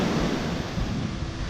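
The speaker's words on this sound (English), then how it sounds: "Really strong waves here actually." Strong ocean waves wash onto Anse Takamaka beach in the Seychelles, a steady, loud roar of surf mixed with gusty wind buffeting the microphone.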